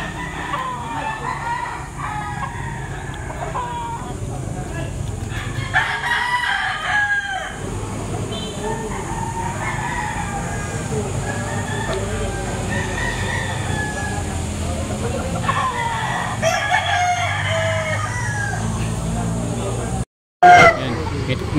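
Several roosters crow repeatedly amid a busy market din at Lipa Tiangge Market in Batangas, with crowd chatter and occasional clucking around them; one brief horn-like blip near the end.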